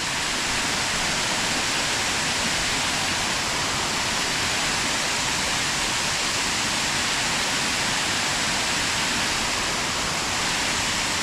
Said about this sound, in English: This is the start of the waterfalls.